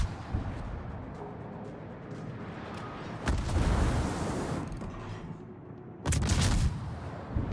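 Warship guns fire in a naval video game, heavy booming blasts with long rumbling decay, a couple of spaced salvos at moderate level.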